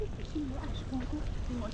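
Ducks and other waterbirds on a quiet park pond in a botanic garden give short, scattered quacking calls at moderate distance, with soft outdoor ambience around them.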